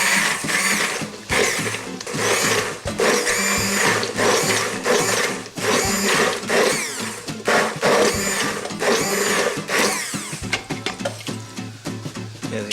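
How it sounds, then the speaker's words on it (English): An electric blender roars continuously at close range, blending cooked dal, its motor whining and churning, with a slight change in pitch toward the end. "So I'm gonna use a blender instead of this Makhni."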